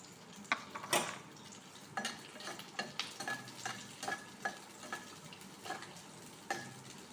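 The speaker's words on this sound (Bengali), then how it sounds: "তেল গরম হয়ে গেছে, ওতে এই দেখো পেঁয়াজ কাটা দিচ্ছি।" Chopped onions sizzle in hot oil, with a spoon scraping and stirring the pan in irregular strokes, quiet and close with no talk.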